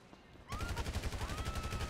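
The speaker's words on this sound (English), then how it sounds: "Was that a bad guy or was just a random civilian I just shot for no reason?" Gunfire in the video game Grand Theft Auto V starts abruptly after a quiet half-second: a loud, rapid burst of repeated shots with a ringing whine, continuing to the end.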